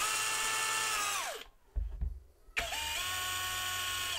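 A Parkside Performance cordless hammer drill rated at 64 Nm bores with a 10 mm bit, whining loudly and steadily. It stops briefly and some low knocking follows, then the motor spins up again and runs on alone.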